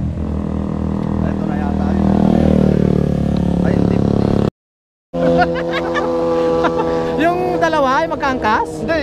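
A Honda Winner X motorcycle engine drones past on a winding mountain road, loud and close, then a brief cut followed by more engine tone as the bike leans through curves; people talk over it.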